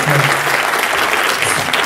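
An audience applauds loudly and steadily after a talk on management in the 21st century, dense clapping filling the whole stretch with no speech over it.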